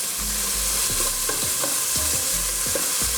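Moose meat sizzles steadily in a pan while a utensil stirs and breaks it up, producing a string of close scraping knocks over the continuous frying hiss, no talking.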